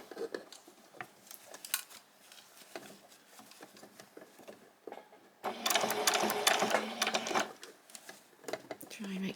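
A sewing machine stitching a fabric handbag runs in short bursts, a few stitches forward and back, then a longer louder stretch of rapid stitching, with quiet speech between runs.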